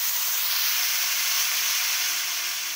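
Cauliflower florets frying in hot oil until reddish, a dense steady sizzle and hiss filling the whole moment, loud and close with no talking.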